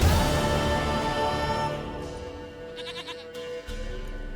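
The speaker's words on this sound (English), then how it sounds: "Goat of mine, dearest," Goat bleating in The Witcher 3: Wild Hunt on Xbox Series S, a few short nasal bleats layered over a steady game ambience, moderately close and fairly clear.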